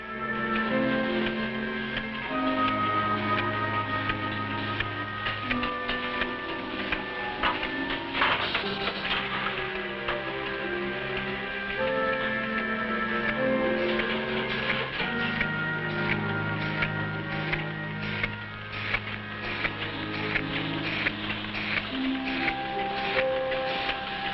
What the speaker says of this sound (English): This machine places empty capsules into a circular metal disc.